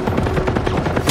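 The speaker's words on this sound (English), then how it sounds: "He has an automatic cannon!" Rapid automatic cannon fire in a video game, a fast even train of heavy thudding shots, about a dozen per second, loud and close throughout.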